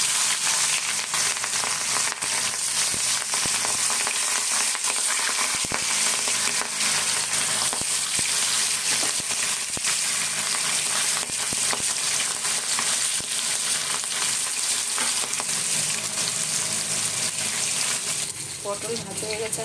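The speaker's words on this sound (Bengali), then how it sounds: "তেল গরম হয়ে গেছে, এখন আমি মাছটা ছেড়ে দেবো।" Katla fish fries in hot oil in a kadai, a steady dense sizzle that runs close and loud throughout, easing slightly near the end.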